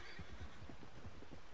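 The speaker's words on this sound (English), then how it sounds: "Silly horse." A horse neighing in the video game Red Dead Redemption 2, a short, rather faint whinny with shuddering pulses, alone without talk.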